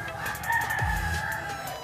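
A fighting rooster, a gamecock kept by the owner's brother, crows loudly and close, one sustained strained call filling the moment with steady background hiss.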